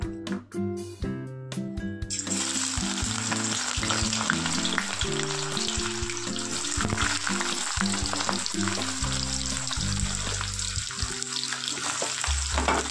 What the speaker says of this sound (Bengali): তেলটা গরম হয়ে গিয়েছে। এবার কেটে রাখা সবজিগুলো দিয়ে দেব।